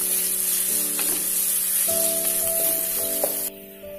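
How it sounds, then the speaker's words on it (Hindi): Chopped onion frying in hot oil gives a loud, steady sizzle that runs the whole time, with tonal background music underneath and a drop in level near the end. "ऑयल हमारा हीट हो चुका है। इसमें जाएगा प्याज। प्याज को फ्राई करेंगे अच्छे से।"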